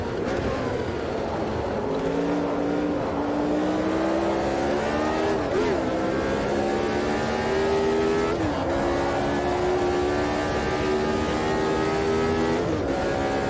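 Engine of a McLaren race car lapping Silverstone in Automobilista 2, a loud steady high-revving drone that climbs through the gears with brief dips at shifts, close and continuous throughout with no talk.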